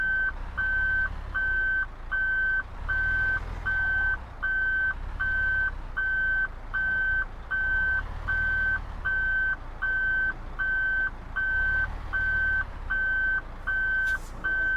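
A Mercedes Actros MP1 truck's reversing alarm in Euro Truck Simulator 2 beeps in a steady, regular rhythm over a low engine hum, continuing throughout without talk.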